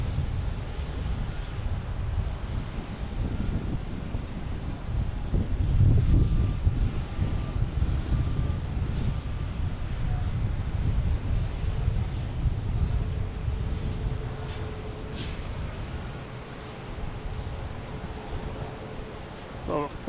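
A Wheels Up plane arriving from Nantucket approaches Boston Logan Airport, a steady distant engine roar that swells slightly around the middle and then eases, carrying on throughout with faint background ambience.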